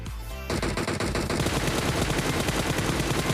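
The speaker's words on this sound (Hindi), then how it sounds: "पीछे से बॉट फायर करता है" Continuous automatic gunfire from a bot in the mobile battle-royale game PUBG Mobile. After a brief quiet start, the fire runs as a loud, dense, rapid stream of shots for the rest of the stretch, with no talk.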